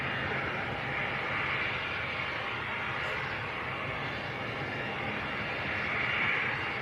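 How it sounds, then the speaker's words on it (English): A Saxon Air Cessna Citation business jet taxis at Manchester Airport, giving off a steady, moderately distant engine roar and whine that holds even throughout with a slight swell near the end. "A little Cessna citation."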